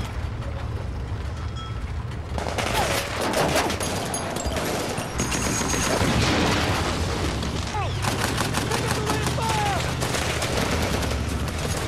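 Dense gunfire from a war film erupts all around a platoon in an Iraq invasion battle: continuous overlapping rifle and machine-gun bursts with booms, loud and near, building after a quieter opening and never pausing.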